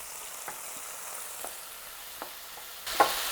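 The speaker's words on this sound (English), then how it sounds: "we're going to add the tomatoes. And cook until the tomatoes are jammy" Tomatoes cook with onions in a pan, giving a soft, steady sizzle with a few light scrapes of stirring and a sharper clatter near the end, with no voices.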